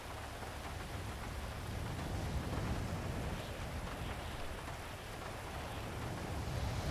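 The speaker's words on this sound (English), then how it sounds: "it's raining" Steady rain pours down continuously in a video game, a dense hiss of drops with a faint low rumble underneath, no voices.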